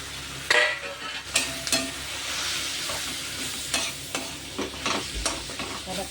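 Chopped onion and tomato fry in a hot pan while being stirred for jhunka, a steady sizzle broken by repeated scraping and clacking strokes of the spoon, close and alone without voices.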